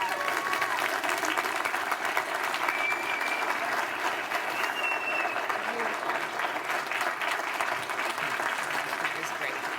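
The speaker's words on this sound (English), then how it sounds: "Let's give him a real round of applause." An audience at the 2023 State of the City address for Arvada, Colorado applauds in a steady, sustained wash of many hands clapping at even loudness, with scattered voices and faint whistles mixed in.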